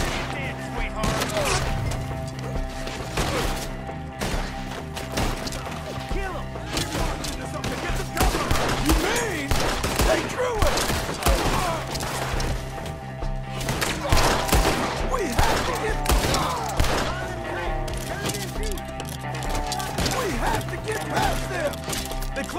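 A dense gunfight in the Red Dead Redemption 2 epilogue, with rapid, overlapping shots crackling almost constantly over a busy mix of game sound and score.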